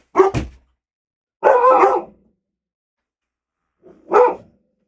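A dog barks three times, loud and close, with longer pauses between the barks and silence around them.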